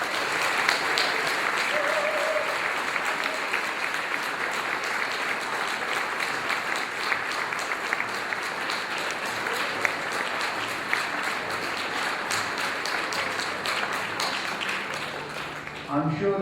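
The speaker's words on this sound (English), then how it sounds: "please give a big round of applause, a massive round of applause for Mrs." An audience aboard the cruise ship MV Oriana applauds, a sustained, even roar of many hands clapping at a moderate distance that holds steady for over fifteen seconds before tapering.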